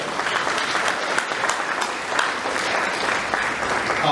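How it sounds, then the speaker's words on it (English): An audience applauds at a Congressional Gold Medal ceremony honoring Chinese American World War II veterans, a dense, steady wash of many hands clapping without letup. "Give her a round of applause as well."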